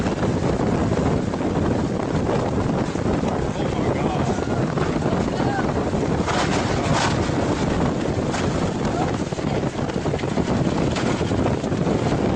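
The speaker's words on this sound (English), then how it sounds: "Wind. Strong wind." Strong, unrelenting wind roars as a dense, continuous rush battering the microphone, steady and loud throughout with no breaks.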